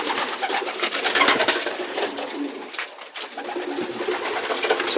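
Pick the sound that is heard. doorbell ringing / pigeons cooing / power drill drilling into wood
pigeons cooing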